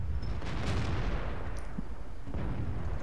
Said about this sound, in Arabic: الارتيات بتنهبل مع الدبابة ذي